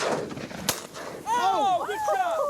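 During an Oklahoma bird hunt, a single loud, sharp shotgun blast rings out near the start, and excited shouting voices follow right after.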